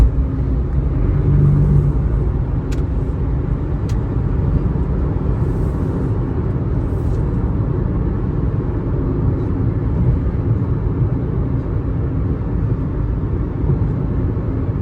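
Road traffic heard from inside a moving vehicle in Alabang, a continuous loud low rumble of engines and tires, with a couple of faint sharp ticks and no talking.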